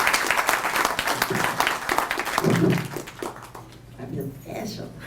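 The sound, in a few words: audience applause for a speaker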